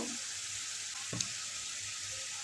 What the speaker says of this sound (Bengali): খুব ভালো করে মশলাটা কষে নেব যতক্ষণ না মশলা থেকে তেল ছেড়ে দিচ্ছে